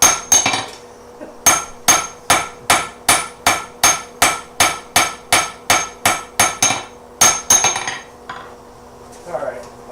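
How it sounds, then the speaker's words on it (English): Blacksmith's hammer striking hot metal during forging, a steady run of about twenty sharp ringing blows close by, then a few scattered hits and a quieter clatter at the end. "The important lesson we're learning here is to hit the metal with the hammer."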